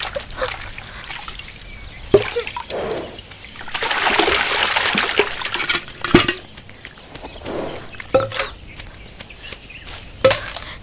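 Water splashes and sloshes while a bucket is filled and drawn, in uneven bursts with clanks and dribbles, one longer rush of pouring in the middle, in an outdoor village scene from a Tamil film. No one speaks.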